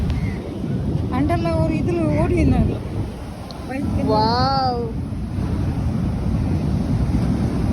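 Strong wind and surf roar steadily at a Mangalore beach in the rainy season, a constant heavy rush with a person talking over it partway through.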